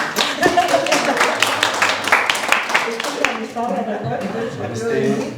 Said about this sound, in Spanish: otro aplauso a la señora